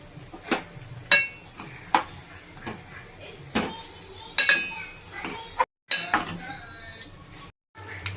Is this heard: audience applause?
no